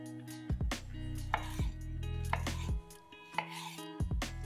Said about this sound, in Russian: Половинки помидоров нарезаем дольками.